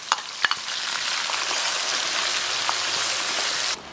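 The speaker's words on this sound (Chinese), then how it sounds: "肉末的香味炒出来" Minced pork stir-fried in a wok with bean paste, fermented black beans and hotpot base over low heat, a steady close sizzle with a few sharp scrapes of the spatula early on.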